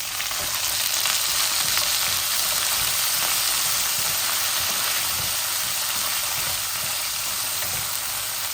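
Dried gajar fish frying with garlic in hot oil gives a loud, dense, even sizzle like heavy rain, steady throughout with faint stirring underneath and no talk.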